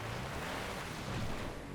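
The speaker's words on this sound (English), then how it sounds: "It is raining" Steady broadband hiss of rain falling in GTA Online, constant and moderately loud with a low rumble underneath, no voices.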